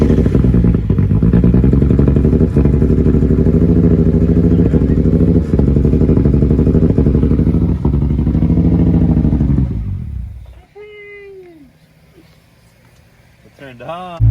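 A Nissan Z car engine, fed starter fluid through the throttle body because of a failed fuel pump, cranks and runs loudly with a steady rough drone for about ten seconds before cutting out, followed by faint sounds and a final thump.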